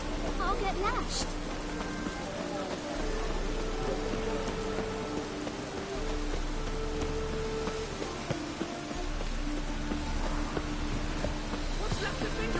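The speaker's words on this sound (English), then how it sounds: "Looks like rain." Steady rain falls throughout in a video game, a dense hiss of drops with occasional clip-clop of hooves and other background activity mixed in.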